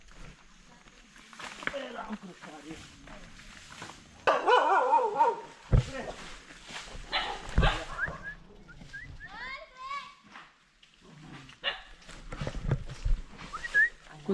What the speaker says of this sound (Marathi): बारका कुत्रा बघ कसला डेंजर आहे